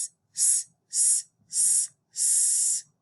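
A voice imitates a snake's hiss in a letter S story exercise: four sustained hissing bursts, the last one longest, each set apart by a short pause, close and clear with no talk around them.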